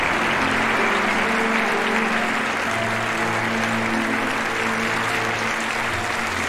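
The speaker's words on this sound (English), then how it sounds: "And the applause, ladies and gentlemen, for Jonathan Wilkins and Wendi Davies." Sustained audience applause following a ballroom waltz performance at a 1995 dance championship, steady dense clapping from a large crowd with music playing softly underneath.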